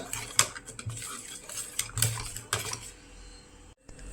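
Ground fish bones being stirred with coconut milk in a bowl, with close clinking and scraping of a utensil in irregular bursts and a short pause near the end.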